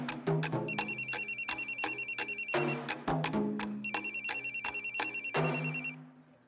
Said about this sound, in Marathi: अगं फोन वाजतोय, दे ना.